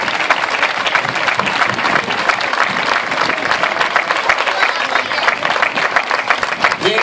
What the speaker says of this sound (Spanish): Así que doble aplauso desde la tarde de hoy.